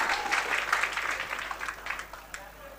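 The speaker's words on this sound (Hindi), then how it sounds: "एक बार जोरदार ताली दिया जा रहा भाई" Audience applause at a gathering, a short burst of many hands clapping that fades out over a couple of seconds, with voices mixed in.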